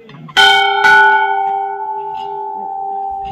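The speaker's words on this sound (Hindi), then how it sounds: "तो लास्ट बार एक बार घंटी बजा देते हैं।" A temple bell at Sem Mukhem Nagraja temple in Tehri Garhwal is struck twice in quick succession, each strike clanging bright and loud, followed by a long, clear ringing tone that slowly fades against quiet background murmurs.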